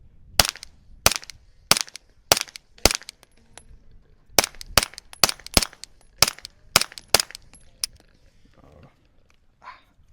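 Subsonic rounds fired through a Stealth Additive Works SHIV suppressor give a string of about fifteen sharp, muffled cracks at an uneven steady pace, close by, with a quiet pause near the end.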